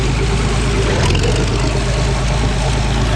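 A 1960s-era Allis Chalmers D-19 tractor fitted with a 426 engine for pulling idles loudly and close, with a steady, dense low rumble that holds throughout and a slight surge about a second in.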